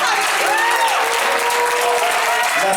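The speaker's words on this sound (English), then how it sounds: "Let's clap our hands for overseer." A church congregation claps together in sustained, dense applause at a service, with voices faintly mixed into the steady roar of hands.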